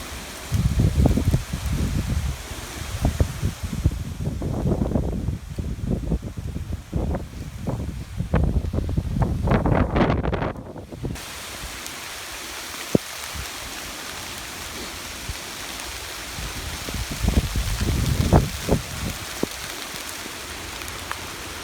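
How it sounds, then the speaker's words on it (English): A late September hail storm, with dense rattling and pattering of hailstones on surfaces outdoors, loud in surging bursts with a quieter steady patter between them. "It's hailing."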